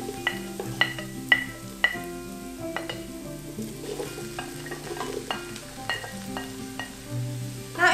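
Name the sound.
stir-frying old ginger, dried shiitake and taro in pot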